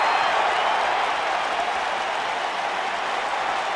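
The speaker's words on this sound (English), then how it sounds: "I don't remember the last time I heard a more passionate crowd than the one we have here tonight" Arena crowd noise from a WWE 2K19 wrestling video game event, a steady, loud wash of cheering and applause that holds evenly without a break and with no clear voices on top.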